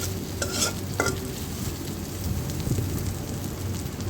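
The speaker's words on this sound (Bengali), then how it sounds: "দেখতেই পাচ্ছেন আস্তে আস্তে ভাজা হয়ে গিয়েছে মজাদার চিংড়ি মাছ" Prawns fry with onion in a pan, making a dense, continuous sizzle over a low hum, with a couple of sharp utensil clicks near the start as they are stirred.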